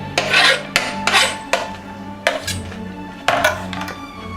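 The back of a knife scrapes along a celery stalk to expose the veins, in several separate rasping strokes at close range, each short and sharp, with no talking.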